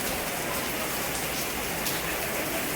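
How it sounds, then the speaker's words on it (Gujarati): A downpour keeps falling in a thick, unbroken wash of hiss, loud and close, with no talking on top. "એક ધારો વરસાદ ચાલુ છે."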